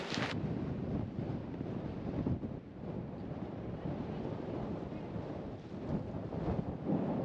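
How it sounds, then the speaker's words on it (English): Strong wind roars steadily into the microphone on the Northumberland coast near Bamburgh, a constant buffeting rush with no other clear sounds. "Very, very windy."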